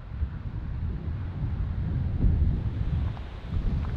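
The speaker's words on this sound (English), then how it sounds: "Got some big cool winds coming in right now" Strong gusting wind buffets the microphone at the leading edge of a tornado-warned supercell thunderstorm in southern Minnesota, a steady loud low rumble with surges, no voices.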